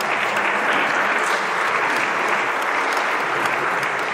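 A church congregation applauding during a closing Mass for a cathedral's 50th anniversary, dense steady clapping from many hands that stays even and fairly loud throughout.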